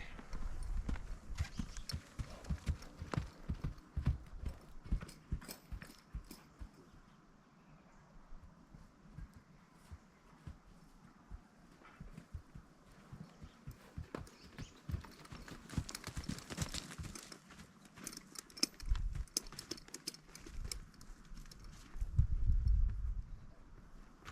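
A ridden mare named Hotlips walks along, her hooves clip-clopping in a steady, uneven rhythm that is close and clear. Occasional thumps and brief rustles are heard, and a voice can be heard at times.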